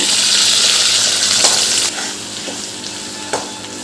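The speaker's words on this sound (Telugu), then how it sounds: "ఆయిల్ ఎక్కిన తర్వాత శనగపప్పు మినపప్పు ఆవాలు జీలకర్ర యాడ్ చేసుకోవాలండి" Chana dal, urad dal, mustard seeds, cumin and dried chillies sizzle loudly as they hit hot oil for a tempering, a dense crackling hiss that eases after a couple of seconds into lighter spattering with a few sharp pops.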